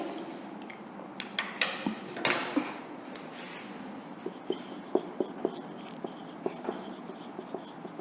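Pen writing an answer by hand on paper during an English revision lesson, a quiet scratching with a series of light taps and strokes, close and faint, with no talk over it.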